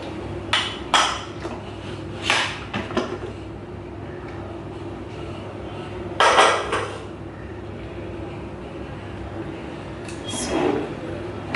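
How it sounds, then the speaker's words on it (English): A pressure cooker lid is handled and opened on a pot of mutton biryani, with a few sharp metallic clanks and knocks spaced apart over a quiet background hum. "I've waited for the pressure to release, and let's now open the lid."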